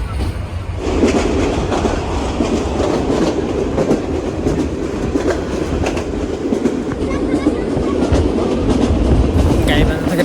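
Steady rumble and rhythmic clatter of a moving train between Gaibandha and Santahar, loud and continuous from the inside, with faint voices mixed into the noise.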